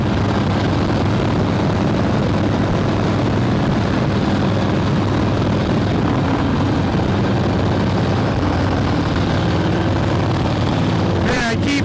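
Two big-twin motorcycles, a 1966 Harley Shovelhead and a 1940 UL Flathead, roar steadily up close while riding in strong wind, a continuous loud engine drone with heavy wind rumble throughout.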